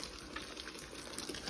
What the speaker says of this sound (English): Just gonna add some hot water to it